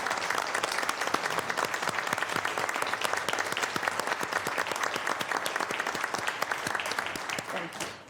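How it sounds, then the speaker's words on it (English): A meeting audience applauds steadily for about eight seconds, a dense wash of many hands clapping at a fairly even level before tapering off at the end. "I think they deserve some applause from us."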